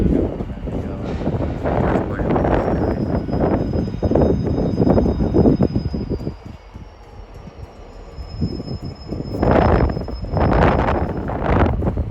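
A train passing through Watford Junction station on the West Coast Main Line, a loud rumbling roar with wind buffeting that eases midway, then surges again with clattering bursts near the end.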